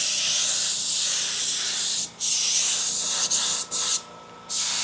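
Spray gun fed by a tiny air compressor applying cheap paint without a booth, a loud steady hiss of spray that cuts out briefly several times between passes.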